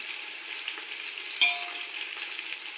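Turmeric and masala spices sizzling in hot oil in a pan while making coconut-milk rice, a steady close crackling fry with a few sharp pops and light stirring scrapes.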